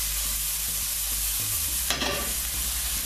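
Ginger and garlic sizzling in a pan over medium-high gas, a steady close hiss with a brief burst of louder crackle partway through, no talking.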